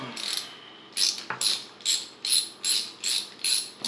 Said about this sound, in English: take your 8mm because that's what the size of these are. You want to take the bolts out there first.